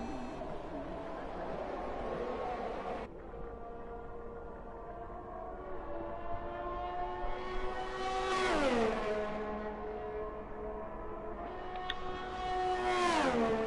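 Ferrari Formula 1 car engine on a fast qualifying lap at Canada in the F1 2021 racing game, a loud whining roar that climbs steadily in pitch through several gear changes, dropping briefly at each shift.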